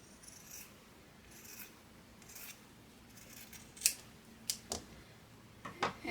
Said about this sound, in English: And I'm going to trim off this excess.